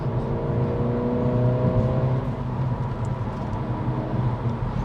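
A 2023 Acura Integra A-Spec driving in sport mode, heard from inside as a steady loud engine drone with tonal harmonics that shift midway, plus road rumble and no talk.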